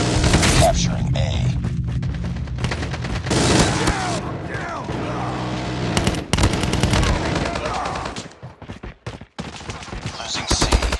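Rapid bursts of automatic gunfire and booming explosions from a Call of Duty Mobile match, loud and dense with brief pauses, mixed with in-game announcer voices.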